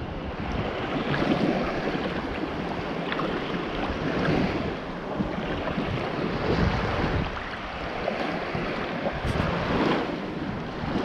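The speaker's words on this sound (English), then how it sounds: "Breezed up pretty good." Steady wind blows across open water offshore, a constant rushing hiss with gusty swells and microphone buffeting, loud and unbroken with no talking.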